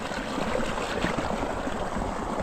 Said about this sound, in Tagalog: Laki ng volume ng tubig pala dito